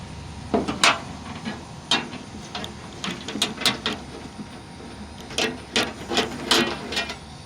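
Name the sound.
adjustable wrench twisting off a car antenna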